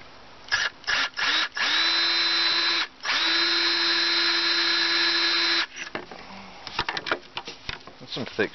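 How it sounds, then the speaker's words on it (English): A power drill pre-drills a hole for a homemade chicken feeder built from recycled junk, whining in several short bursts and then one long steady run before stopping into clatter and handling noise. "Just going to pre-drill that real quick and get my drills."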